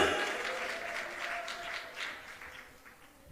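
A church congregation claps hands together in a dense, lively burst. The clapping is strongest at the start, then eases and swells again, with voices mixed in.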